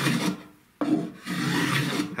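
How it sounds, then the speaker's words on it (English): A hand plane shaves a wooden board in two close, rasping strokes separated by a brief pause, each stroke a dry, breathy scraping hiss. "He's going to put it on the board, and he's going to start planing."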